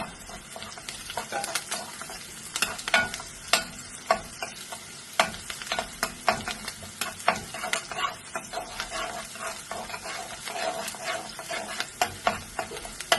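Onions fry in oil in a pan for fish biryani: a continuous close sizzle punctuated by frequent sharp crackles and pops, with no talk over it.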